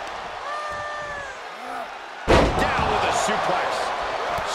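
Heavy clothesline strike in the WWE 2K23 wrestling video game, landing as one loud thud midway. Crowd noise swells after it, and a commentator talks over the sound before the impact.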